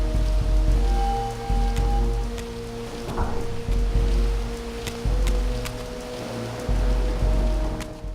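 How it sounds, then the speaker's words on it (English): Steady rain in the video game Soul Reaver 2, falling in a wrecked cathedral courtyard, a continuous hiss with low ambient rumble and occasional sharper drip-like ticks throughout. "So it actually has proper contextual rain."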